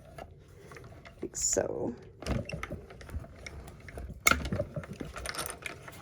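A die cutting machine cranks a card through, giving ratcheting gear clicks in short bursts, close and fairly quiet, with a crafter talking over it.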